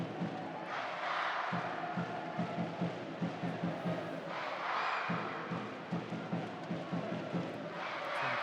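A football stadium crowd at a Women's Super League match between Leicester City and Arsenal roars for the home team, with rhythmic chanting, swelling cheers and a steady background hum continuing throughout.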